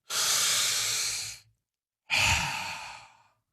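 A single deep breath taken during a hypnosis session, a long close inhale followed after a short pause by a slower, fading exhale, with no talking.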